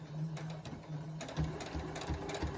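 A sewing machine runs quietly with a rapid mechanical hum, its needle thumping in soft repeated knocks as it stitches through thick quilt layers, with no talking.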